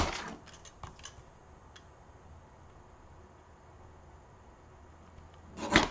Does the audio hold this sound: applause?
no